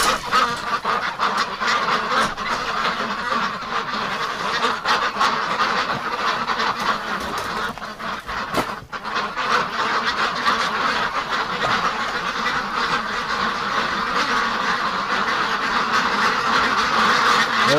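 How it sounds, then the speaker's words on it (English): A group of ducks quacking and honking outdoors in winter, a busy, continuous chorus close by with overlapping calls throughout. "Oh, look at the ducks."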